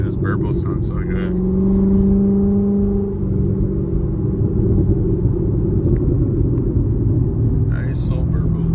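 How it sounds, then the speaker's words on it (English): A loud Chevrolet C7 Corvette rumbles with a deep exhaust burble while cruising at night, the engine tone swelling briefly then settling into a steady low drone; someone talks over it. "Nice old burble right there."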